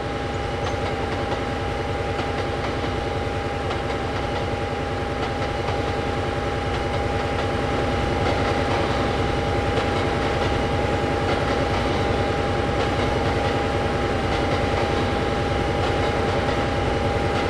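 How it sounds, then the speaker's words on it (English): An electric locomotive hauling a string of freight wagons rolls past in Train Simulator, giving a steady, loud rumble with continuous clattering wheels and a constant tonal whine that builds slightly partway through, with no voices. "An electric locomotive went by with a bunch of wagons."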